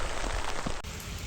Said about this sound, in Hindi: मौसम कुछ ऐसा हो गया कि बारिश होने लगी